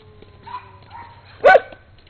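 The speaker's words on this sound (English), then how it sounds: "I hear some yapping dog." A small dog yaps from a distance in a couple of faint calls, then gives one louder, sharper yap close by.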